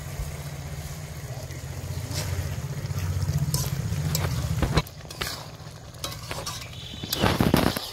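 Ghee added to a hot pan of boiled potatoes in a banana blossom and prawn dish, a close sizzle over a low steady hum that later gives way to sharper scrapes and clanks of stirring.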